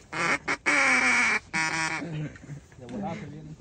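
A hunter blows a duck call at a Utah duck hunt, sounding loud, close, nasal quacks in a quick burst followed by softer, broken calls.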